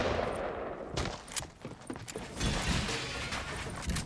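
Gunfire in the Fortnite Battle Royale video game, rapid bursts of shots crackling close and loud, with a brief lull before the firing picks back up.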